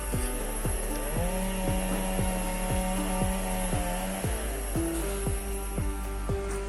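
A chainsaw runs loud and close, cutting trees in a rubber and cashew plantation in Palakkad, Kerala, its engine revving up and dropping back again and again in a steady rhythm.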